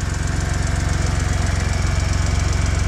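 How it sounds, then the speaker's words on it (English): A small 800cc three-cylinder Chery engine with a five-speed manual runs at a steady idle, close and loud, with an even rapid pulsing throb and no talking. "The motor is a 3-cylinder Cherry automatic, which is a small"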